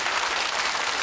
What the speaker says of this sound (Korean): 이분들의 만남에 큰 박수를 한번 보내주시기 바랍니다.